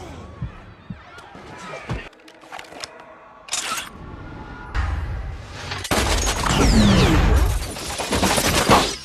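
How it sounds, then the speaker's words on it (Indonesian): Bursts of gunfire and impacts in a dramatic action scene from the film Wanted (2008), shots and crashes building into a loud, dense barrage toward the end. "Lalu adegan tembak-tembakan pun terjadi."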